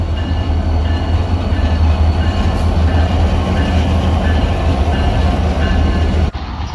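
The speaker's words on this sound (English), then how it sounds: "they still have a train running right through the waterfront, right beside the road" A passing train on the St. Lawrence waterfront beside the road rumbles loudly and steadily, its wheels clattering close by, before the sound cuts off abruptly near the end.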